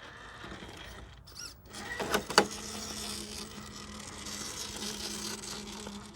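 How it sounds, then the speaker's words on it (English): Quiet whirring hum of a Hobbywing Axe R2 3300 brushless motor driving a TRX6 RC crawler on a crawl test, faint steady whine with a couple of brief clicks and knocks partway through, no talk. "Now you can hear that motor for sure"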